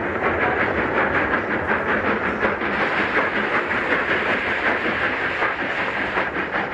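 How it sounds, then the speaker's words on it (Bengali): A train pulling in at a station platform gives a steady, loud rumble with hiss and rolling wheel noise that holds evenly throughout, with no voices. "অবশেষে যথাসময়ে ট্রেন প্ল্যাটফর্মে এলো।"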